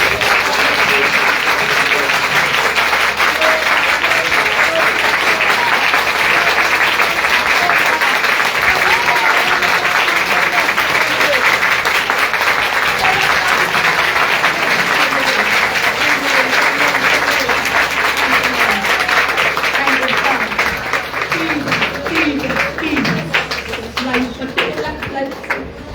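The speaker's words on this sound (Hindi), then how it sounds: "जोरदार ताली बजाएंगे।" A church congregation at a Hindi-language worship service breaks into loud, sustained applause, with dense clapping and voices talking throughout, before it thins and fades toward the end.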